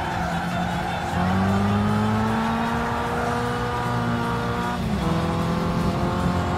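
Race car in Gran Turismo 5 with a loud, steady engine whine and tires squealing through corners, the pitch sliding up and down continuously with a brief dip and shift near the five-second mark.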